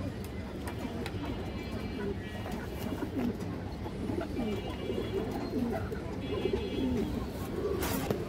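A female pigeon at a pigeon seller's stall coos amid a crowd of other pigeons, with steady overlapping low throaty coos running throughout and a person talking underneath.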